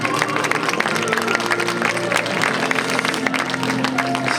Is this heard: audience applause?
yes